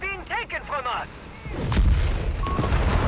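Beretta rifles firing in the Company of Heroes 3 strategy game, a rapid, dense burst of gunfire that swells up loud and close after a brief spoken phrase.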